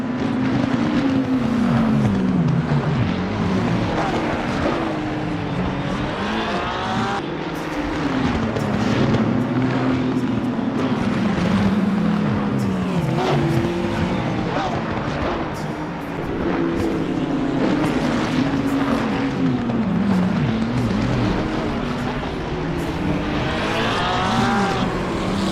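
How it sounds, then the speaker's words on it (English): Race cars in the ATR1000, a six-hour, 1,074-kilometre endurance race, roar past one after another, their engines rising and falling in pitch as they pass in steady loud succession, with wind buffeting the microphone and no voices. "Nicholson was trying to bring the car home, but with 8 minutes left, the Ignited Motorsports McLaren had different ideas"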